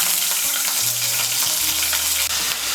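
Paneer pieces fry in hot white oil in a wok, a continuous loud sizzle and crackle with a few low tonal hums beneath, no voices.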